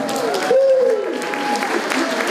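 Audience applause for a singer at a French live music show, brief and moderately loud, heard beneath a voice speaking over it.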